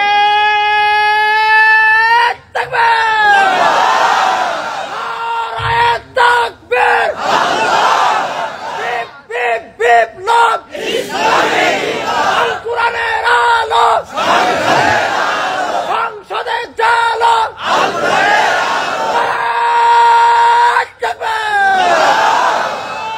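Crowd at an outdoor waz religious gathering in Kotchandpur, Bangladesh, chanting takbir in loud unison responses, with a preacher's amplified voice calling out between bursts; repeated rhythmic shouts echoing over a PA system.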